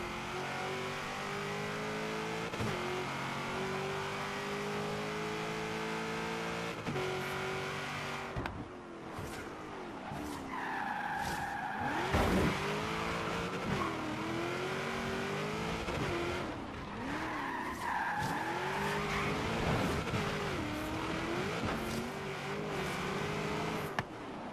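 A 1992 Ford Escort races in Forza Horizon 3, its engine revving and rising through gears with sharp tire squeals as it skids through corners, loud and continuous throughout.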